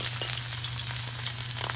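Salmon fillet sizzling steadily in a hot frying pan after being flipped, a close, continuous frying hiss with a low hum underneath and no voices.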